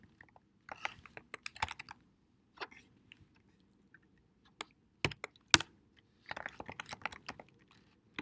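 Fast typing of code on a computer keyboard, close and fairly quiet, with irregular bursts of rapid key clicks separated by short pauses, no talk.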